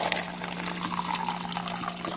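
Water pours steadily into a bottle being refilled, a continuous close trickle and splash with no talking.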